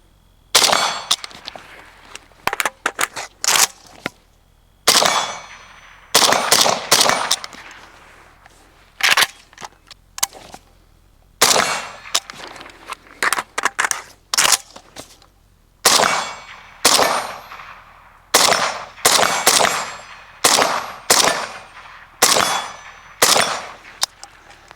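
Suppressed AK rifle fired outdoors in rapid strings of sharp cracks, the rounds coming in bursts separated by brief pauses, loud and close with no talking.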